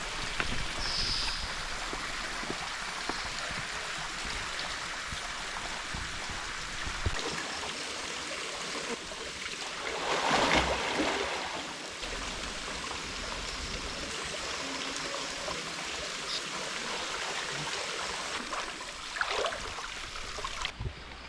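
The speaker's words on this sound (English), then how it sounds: "Next place to visit is Temurun Waterfall." Water flows steadily at Temurun Waterfall in a continuous wash of rushing sound with a brief swell partway through, heard alone.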